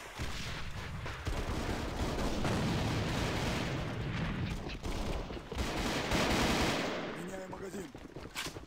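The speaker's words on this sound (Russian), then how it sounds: "Bросаю гранату!" Gunfire and a grenade blast in a first-person shooter match, a dense sustained roar of shots and explosions filling the whole stretch, loud and continuous with a brief thinning near the end.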